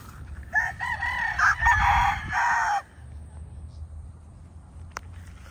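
A rooster crows loudly and close at a poultry farm, one long drawn-out call lasting about two seconds, followed by quieter farmyard background and a faint click.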